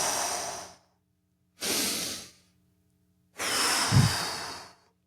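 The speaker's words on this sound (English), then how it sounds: "Breathe in through the nose." Three slow breaths, each a long airy nasal inhale or exhale with pauses between, close and clear during a squat breathing exercise, with no talking.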